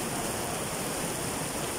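Steady rain falling on Boracay during a downpour, a dense, even hiss of drops with no breaks, close and moderately loud, with no talking.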